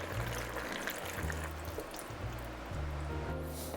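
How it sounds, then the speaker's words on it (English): Beef broth pours into an Instant Pot for a Taiwanese beef noodle soup, making a steady, soft liquid rush with faint trickling and low hum throughout. "Now we're gonna put the 8 cups of beef broth."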